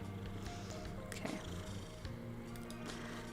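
A pet cat purrs steadily up close, with a brief soft meow in the middle, during affectionate headbutting, and light rustling comes through underneath.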